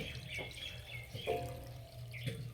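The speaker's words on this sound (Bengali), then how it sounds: "এবার সাবুটাকে পরিষ্কার করে ধুয়ে নেব।" Sago pearls being rinsed clean in water, with soft sloshing and trickling close by and a few brief splashy bursts, no voices.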